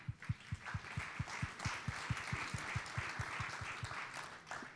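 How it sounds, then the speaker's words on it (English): Audience applauding at a tech center winter summit, a sustained wash of many hands clapping for several seconds, fairly distant and evenly loud throughout. "A round of applause for everyone."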